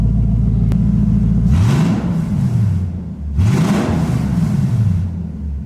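Lexus LS400 V8 idling with a completely open header, a steady low rumble with a couple of brief rising revs swelling over the idle, close and loud with no talk.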